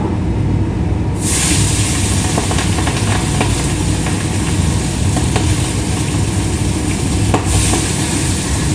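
Pabda fish curry simmering in a pan on a home stove, giving a steady, loud, close bubbling and sizzling hiss with faint crackles throughout and no talking.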